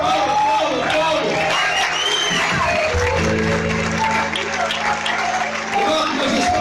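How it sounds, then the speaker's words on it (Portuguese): Church congregation applauding throughout a worship service, a steady wash of clapping mixed with crowd voices and a sustained organ or keyboard tone, with talk continuing over it. "Aplauda, aplauda, aplauda, aplauda."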